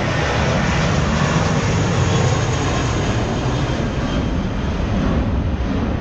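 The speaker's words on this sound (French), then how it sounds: "Et l'avion." An airplane passes over Gibraltar, its engine a loud, steady broadband roar that fills the scene throughout with no break.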